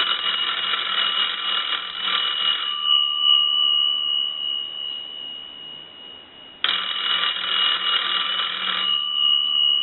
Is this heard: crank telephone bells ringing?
yes